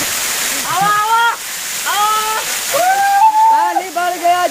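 Budhan Waterfall near Sasaram in Rohtas, Bihar, rushes as a steady broadband roar beneath repeated loud, drawn-out shouting voices that rise and fall throughout.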